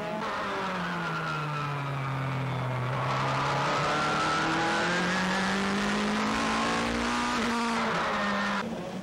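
Toyota Supra GT cars racing in a 2004 Super GT round at Sportsland SUGO, engines loud and continuous, their tones climbing and falling through gear changes as several cars pass close together.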